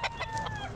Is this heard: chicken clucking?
yes